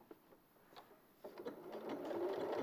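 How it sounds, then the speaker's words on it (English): A sewing machine runs a decorative stitch, starting with a few soft clicks before its motor whirs up into a steady, building hum up close. "just do a little decorative stitch"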